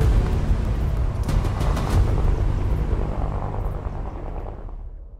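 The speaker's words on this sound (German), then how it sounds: "Ich höre ein Heli in der Ferne." Deep, rumbling helicopter rotor drone from Call of Duty Black Ops 6, heavy and loud at first, then gradually fading away into the distance.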